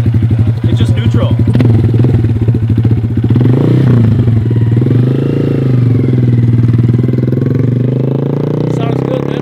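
A vintage Toyota engine revs up and settles back again, a loud, close, throaty rumble with steady clattering pulses.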